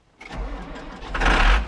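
Old tractor engine with 26,000 hours turning over on the key: a short cranking burst, then a deep diesel-like rumble that catches and swells louder, close by with no voices.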